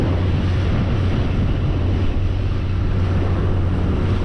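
Steady wind buffeting the microphone over choppy water while a Carolina skiff runs at low tide on a windy day, a continuous loud rushing roar with a low engine hum underneath and no voices.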